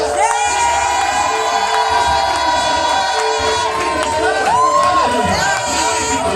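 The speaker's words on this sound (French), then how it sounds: "Si tu es dans la joie, pousse les cris du Seigneur." A church congregation at a worship service shouts and cheers with joy, a loud, continuous crowd roar with high voices rising and overlapping throughout.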